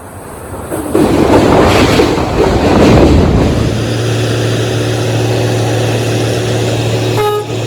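A Garib Rath special passenger train at Darbhanga Junction rumbles loudly and close, a dense rolling roar of wheels and carriages that settles into a steady engine drone with a humming tone, a brief horn-like toot at the end.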